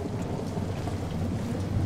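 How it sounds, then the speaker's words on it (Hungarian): Rain and rolling thunder in the Slender: The Arrival game, a dense steady hiss of rainfall under a continuous low thunder rumble, loud and close throughout with no voices. "És itt esik az eső."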